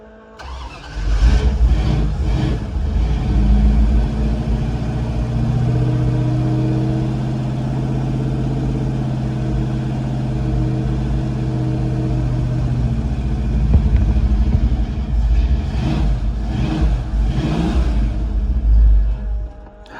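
A truck engine fitted with an electric choke runs loud and close, revving up near the start, settling into a steady rumble, then revving again toward the end, with no talking.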